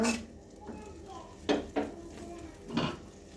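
Prawns stir-frying in a pan after water has been added, with quiet scraping of a spoon against the pan and a few sharper clinks over a soft background hiss.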